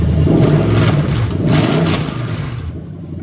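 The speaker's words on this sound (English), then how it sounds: "We'll give it a quick rev." Toyota 1UZ-FE VVT-i V8 engine in a left-hand-drive car with an adapted harness, revving loudly up and down nearby in a few surges before settling back toward idle.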